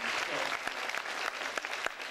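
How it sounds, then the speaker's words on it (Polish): Audience clapping at a festival performance, a dense burst of applause with several sharper individual claps standing out, fairly close and sustained throughout. "Brawa oczywiście."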